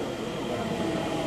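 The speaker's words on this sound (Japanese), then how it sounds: "普通列車豊橋行きがやってまいりました。" A local passenger train pulls into Inazawa Station on the Tokaido line, its steady rumble and rolling wheel noise filling the platform at moderate loudness throughout.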